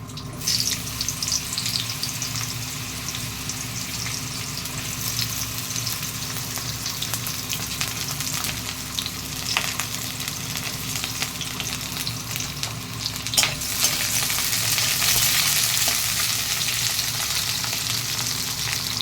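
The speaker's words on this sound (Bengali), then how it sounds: "এবার আমি কড়াইতে তেল দিয়েছি, এবার আমি বেগুনগুলো ভেজে নেব।" Eggplant pieces fry in oil in a wok with a continuous, close sizzle and crackle. Occasional stirring scrapes sound over it, and the frying swells louder toward the end, with no talking.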